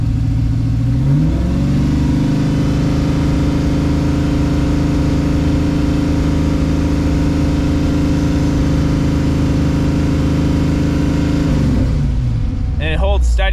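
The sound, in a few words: Firebird engine revving with a little gas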